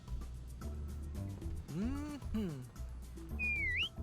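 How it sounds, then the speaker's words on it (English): A character in the video game Reverse: 1999 gives an approving whistle, a short rising-then-falling whistled note following voiced, sung-like sounds and game music, with dialogue around it. "X gives an approving whistle."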